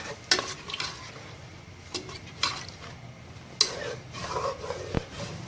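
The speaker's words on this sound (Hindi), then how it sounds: "अब इसमें हम योगर्ट ऐड कर देंगे। और हमने अच्छी तरह योगर्ट को अच्छी तरह से मिक्स कर लेना है इसमें।" Yogurt is stirred into tomato masala in a cooking pan for an aloo baingan dish: quiet, soft scraping strokes with several sharp spoon clinks against the metal, plus a faint sizzle underneath.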